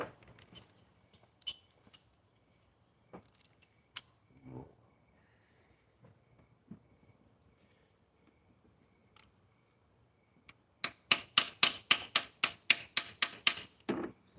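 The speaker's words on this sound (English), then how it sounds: "I'd like to hear the metal clang, and I know then it's seated." A metal socket being seated gives a quick run of sharp metallic clangs and clicks near the end, after mostly quiet stretches with scattered faint taps.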